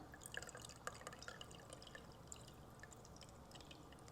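Homemade macadamia nut milk pours into a container, a steady close liquid stream with drips and small splashes, no talking.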